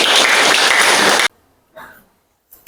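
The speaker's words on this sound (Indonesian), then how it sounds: "tepuk tangan." Classroom applause from a group of students, a dense burst of clapping for just over a second that stops abruptly, followed by faint scattered noises.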